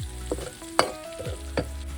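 Onion and masala sizzle oily in a kadhai, with a few sharp scraping stirs of a spoon against the metal, close up, no voices.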